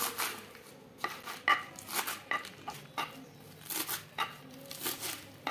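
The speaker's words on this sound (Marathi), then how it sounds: "मी आता पालक मी एकदम बारीक चिरून घेणार आहे।" A knife chops green village spinach finely on a board, giving a quick irregular series of close, crisp cuts and taps with brief pauses between bursts.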